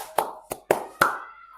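Four sharp hand claps ring out close and clear in a quick, slightly uneven rhythm, each a crisp slap with a brief echo, in a classroom group session.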